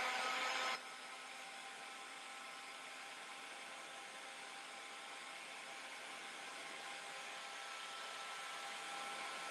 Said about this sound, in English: I'm going to get my heat gun